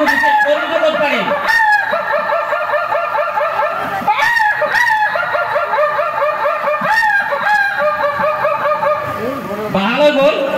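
On stage at a Rongali Bihu gathering, a performer imitates a hen clucking before laying an egg, loud repeated cackling calls in uneven bursts, close and continuous throughout.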